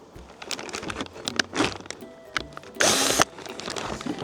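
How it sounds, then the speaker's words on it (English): A power drill whirs in short bursts amid clattering and scraping on wood, with one louder, sustained grinding burst near the end. "let's just drill some holes in here"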